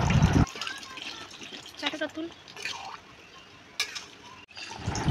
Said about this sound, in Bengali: তো ঢাকনা খুলে এবার দিয়ে দিচ্ছি জল